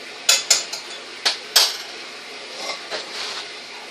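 A utensil stirs cupcake batter in a bowl: several sharp, bright clinks against the bowl in quick succession, then softer, fainter scraping taps as the stirring continues.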